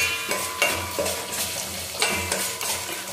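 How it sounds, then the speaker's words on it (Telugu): Onion, cumin and ginger fry in a pan while being stirred, giving a loud steady sizzle broken by repeated scraping strokes and metallic clinks of a spoon, with no voices. "అండ్ ఉల్లిగడ్డ వేసి ఇలా దోరగా వేపుకోవాలండి."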